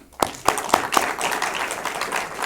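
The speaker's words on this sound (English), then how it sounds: "Let's give a big round of applause to everyone." At a summer short-film awards presentation, a few sharp individual claps quickly swell into steady, fairly close crowd applause that holds to the end without any talking.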